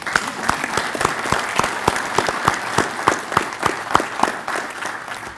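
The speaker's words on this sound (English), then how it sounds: "Let's give a big round of applause for our speakers today." Audience applause for the speakers at the close of a June 2018 Consular Association of Washington meeting, a steady patter of many hands clapping throughout, near and fairly loud.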